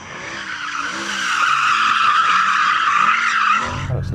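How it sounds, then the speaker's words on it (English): A Mercedes-AMG SLS Black Series spins its tyres to warm them before a drag race, with a loud, sustained squeal of rubber and a roaring engine. The squeal swells and holds for several seconds, then cuts off abruptly. "Do you want to warm up your tyres in the AMG?"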